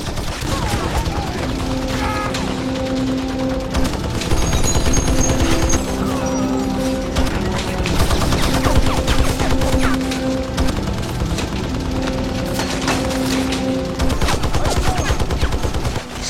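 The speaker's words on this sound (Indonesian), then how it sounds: "langsung menembaki truk teroris itu" Bursts of gunfire from an action film, terrorists shooting at a truck, with crashing impacts over a tense, droning music score, loud and continuous throughout.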